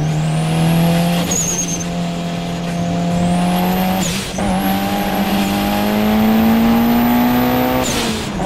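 Modified Mitsubishi Lancer Evo 7 with a bigger turbo, cams and a new exhaust system, accelerating hard through the gears, loud and close with a rising engine note and brief drops at each gear change.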